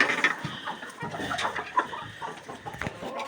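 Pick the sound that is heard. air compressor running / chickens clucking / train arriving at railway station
chickens clucking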